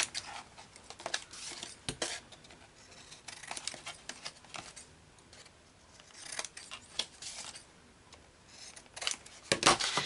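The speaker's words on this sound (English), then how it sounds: "Now we're going to trim the edges again like we did before" Scissors snip repeatedly along the edges of a handmade pop-up album cover, a run of sharp, close cuts with short pauses and light paper rustling between them.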